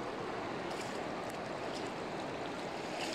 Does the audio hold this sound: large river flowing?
yes